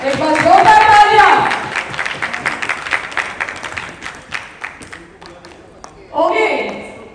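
An audience at an indoor pre-launch business event in Ghaziabad claps loudly at first, then the applause thins into scattered claps before a fresh burst near the end, with a voice talking over parts of it.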